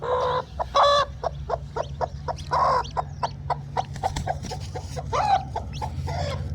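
A brooding hen with newly hatched chicks clucks and chatters in short repeated bursts, close by, with a low steady hum underneath.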